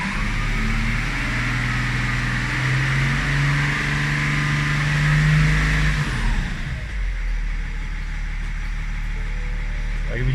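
BMW E39 M57 diesel engine held at high revs under load, a loud sustained drone that drops away near the six-second mark and settles back toward a lower running note.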